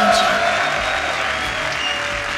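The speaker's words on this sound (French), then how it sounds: "faites un tonnerre d'applaudissements pour Macha" A dense wash of audience applause fills a hall at an esports final for a player named Macha, steady and loud throughout, with a faint voice underneath.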